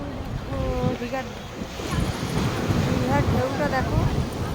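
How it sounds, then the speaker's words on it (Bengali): Sea waves wash ashore at Digha beach as a steady, loud surf roar with wind noise. Voices call and talk over the waves throughout. "ঢেউটা দেখো কত সুন্দর।"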